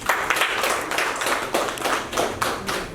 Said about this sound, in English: please address the gathering with a huge round of applause.